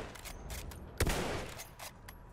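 Battlefield 1 gunfire crackles in rapid bursts at moderate distance, with one sharper, heavier shot near the middle among the repeated rattling volleys.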